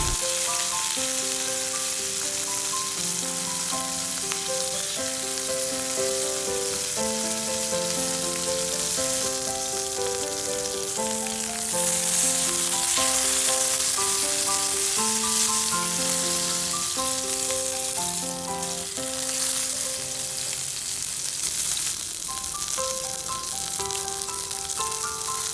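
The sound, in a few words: chicken skin pan-frying until crisp, sizzling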